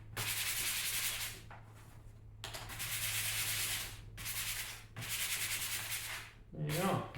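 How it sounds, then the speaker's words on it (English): Rough, scratchy sanding strokes rasp on a CNC-cut wooden snowflake Christmas ornament in several long bursts with brief pauses between, close and steady, ending with a short rubbing scrape. "Let's give it one more quick"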